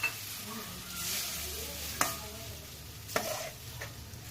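Carrots sautéing in a pan, with a soft steady sizzle under intermittent stirring and two sharp scrapes of a utensil against the pan.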